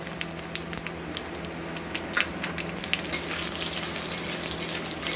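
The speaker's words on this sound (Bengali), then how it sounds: "আর দিয়ে দেবো ফোড়নে গোটা জিরে আর সামান্য চিনি দিয়ে এটা একটু লাল লাল করে ভেজে নেব" Dried chillies, whole cumin and a little sugar tempering in hot oil for a katla fish curry, giving a continuous close crackling sizzle that swells slightly louder toward the end.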